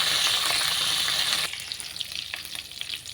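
Fenugreek seeds sizzle in hot tempering oil with a loud, dense crackle that suddenly drops to a quieter, spittier fry halfway through.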